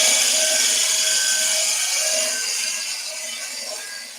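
Wood being turned on a lathe, a small quarter-inch bead cut at the end of a cabriole leg, gives a steady, bright, close scraping hiss that fades gradually, with no talking.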